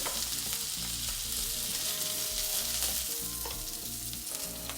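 Lobster sears in butter in a very hot, smoking pan, giving a loud, unbroken crackling sizzle close by with no voices over it.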